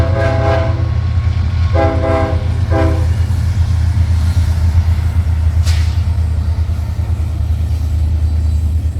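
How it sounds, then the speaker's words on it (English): A Norfolk Southern manifest freight with two older Union Pacific locomotives trailing passes close by, its horn sounding three blasts over a heavy, continuous rumble of rolling cars. "Two older Union Pacific units trail on Manifest 310 heading towards Rockport Yard"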